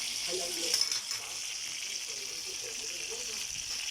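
Food fries in a pan, giving a faint, steady hiss and sizzle throughout, with soft, muffled voices now and then in the background.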